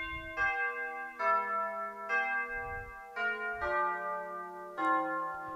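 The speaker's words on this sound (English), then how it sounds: "You have bells, you have church bells." Church bells ring in a slow sequence of deep, resonant strikes, each tone swelling and overlapping the last, with no voices.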